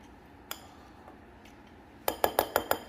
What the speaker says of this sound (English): Now I'm just going to mix and combine well.